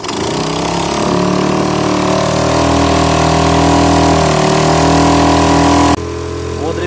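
A motor boat's engine runs loud and close as the boat sets off to dig sea worms with an anchor for fishing bait, a steady droning hum with harmonic tones that drops abruptly near the end.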